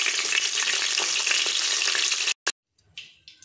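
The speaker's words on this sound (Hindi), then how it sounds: "अब यहीं पर हम सबसे पहले गोभी को फ्राई करेंगे।" Cauliflower frying in hot oil in a pan makes a loud, dense sizzle close up with faint stirring scrapes. It cuts off abruptly near the end, leaving a few brief clatters and quieter sizzling bursts.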